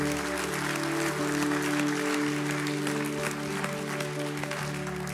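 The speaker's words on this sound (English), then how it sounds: "let's give the Lord a hand clap of praise this morning." A Sunday morning church congregation gives a hand clap of praise, continuous crowd clapping over sustained organ or keyboard chords, steady and moderately loud.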